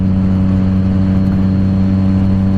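A 2015 Yamaha FZ-09 motorcycle engine holds a steady, loud idle-like drone close by with strong low harmonics, running continuously without speech.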